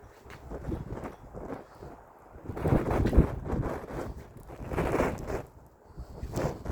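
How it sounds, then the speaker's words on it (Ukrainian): Strong gusts buffet the microphone in rising and falling waves, a rough roaring rush that swells and fades several times. "Бачите, який вітер?"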